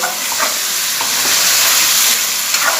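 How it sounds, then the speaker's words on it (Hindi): Eggplant and potato sauté in a pan, making a loud, continuous close sizzle with faint stirring scrapes and no voices. "हम इसको हल्का सा सौते करके फिर इसमें टमाटर और मसाले डाल के फिर मिक्स करेंगे"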